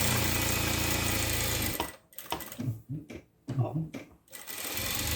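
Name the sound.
sewing machine stitching a seam twice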